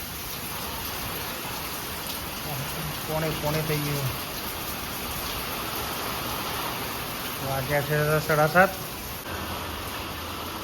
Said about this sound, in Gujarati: જોરદાર વાવાઝોડું આવ્યું છે